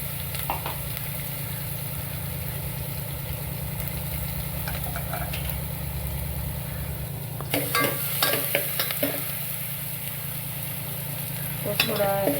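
Curry leaves and ground green chili paste sizzle in a pan for a Maharashtrian masvadi, a steady frying hiss under a low hum, with scraping stirs and spatula clatters breaking in during the second half.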